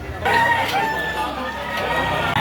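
Rooster crowing at an open-air chicken market in Lipa City, Batangas, a long drawn-out crow close by over a background of other fowl and people chattering.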